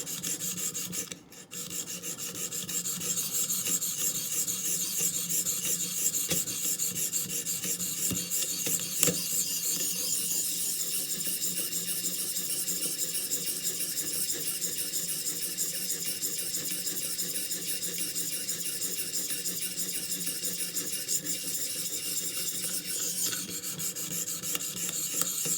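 A file rasps steadily along the blade of grass-cutting shears, making a continuous, close, scraping grind with a regular stroke rhythm for the whole stretch, with no voices.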